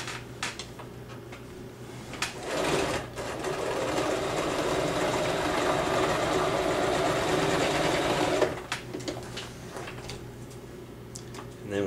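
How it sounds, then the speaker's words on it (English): Sewing machine stitching the corners of a fabric puppet body, running at a steady, close, fairly loud whir for about six seconds in the middle, with handling clicks and quiet talk before and after. "we're going to just simply sew these two little corners here first"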